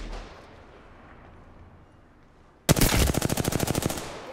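Rapid rifle gunfire in Apex Legends: after a quiet stretch, a sudden loud burst of automatic shots in a fast, even rhythm lasting under two seconds, then fading.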